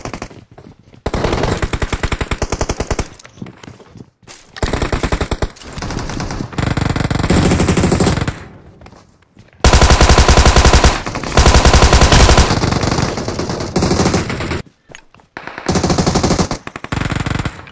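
Automatic gunfire in the mobile battle-royale game PUBG Mobile on the Erangel map: loud, close bursts of rapid shots in several separate volleys, each lasting a second or more, with short silent gaps between them.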